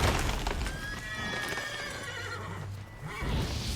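Roach, Geralt's horse in The Witcher 3, whinnies with a high wavering neigh over game ambience and a low drone, with faint hoof clip-clop and no talking.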